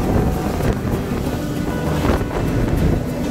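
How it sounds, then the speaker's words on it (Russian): Rough sea on a dive trip at the Similan Islands, Thailand: continuous loud wash of waves and water with wind buffeting the microphone, steady throughout with no speech. "не слишком спокойная у нас вода и море"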